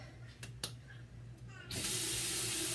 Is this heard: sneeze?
no